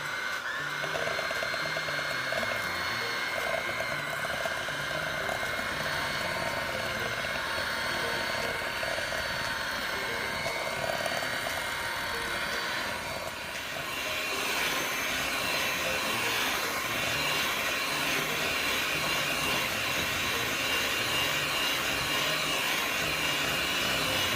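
A handheld electric mixer creams softened butter with white and brown sugar for oatmeal raisin cookie dough, giving a steady, loud motor whir that runs throughout with a slight shift in pitch partway through.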